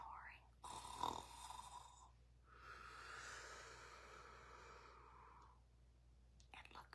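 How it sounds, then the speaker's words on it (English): Soft snoring from characters at the end of a bedtime story, a few long breathy snores fairly faint and alone, with no talk. "They're all snoring."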